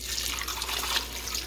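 Water runs steadily from a tap into an Instant Pot over potatoes, a close, even rushing splash with no pauses.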